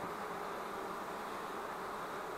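Honey bees buzz steadily at a hive, a soft continuous hum with no pauses and no voices.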